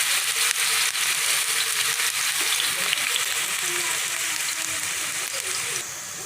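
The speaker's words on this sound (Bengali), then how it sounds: "এবার আলুগুলো দিয়ে দেবো এক এক করে" Potatoes fry in hot oil in a pan for vegetarian chow mein, a close, loud, steady sizzle with bits of stirring, softening slightly near the end.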